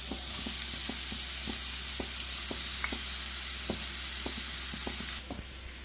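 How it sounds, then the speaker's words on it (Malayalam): Sliced onion sizzles steadily in hot coconut oil for a potato roast, a loud, even frying hiss with soft taps of stirring spaced through it and no voices. "ഇപ്പോൾ എണ്ണ ഒന്ന് നന്നായിട്ട് ചൂടായിട്ട് വന്നിട്ടുണ്ട് ഇതിലേക്ക് നമ്മൾ നേരത്തെ മുറിച്ച് വെച്ച സോള മുഴുവനായിട്ട് ഇട്ട് കൊടുക്കാം"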